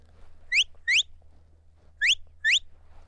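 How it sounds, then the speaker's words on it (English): A sheepdog handler blows four sharp rising whistle blasts as an away command, paired in two quick bursts with a gap between, loud and clear against a quiet background. "that's just a basic away whistle"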